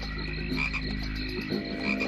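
Frogs croak in a dense, rhythmic chorus, overlapping calls pulsing steadily from nearby, with no voices.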